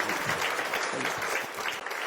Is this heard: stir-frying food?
no